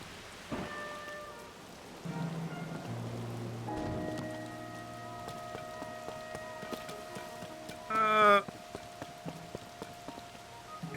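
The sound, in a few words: rain falling in The Legend of Zelda: Tears of the Kingdom video game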